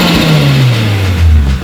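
A turbocharged car engine revs up close and loud with a turbo mod, its pitch then sliding steadily downward into a deep rumble as the revs fall away.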